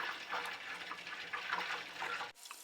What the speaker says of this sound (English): First one is vigorous bubbling with a foamy layer on top.